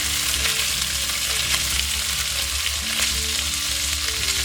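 Rice frying in a pan for orange chicken, a loud crackling sizzle that holds steady throughout with no voices over it.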